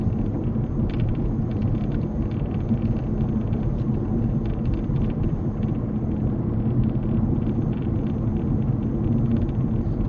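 A car slowing on approach to a mini roundabout, with the driver easing off and selecting second gear; a steady low engine and road rumble continues throughout at constant level, heard from inside the cabin.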